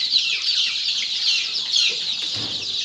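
Native village chickens cluck and chatter continuously in a busy flock, with a steady shrill babble and a brief low thump near the end, no speech.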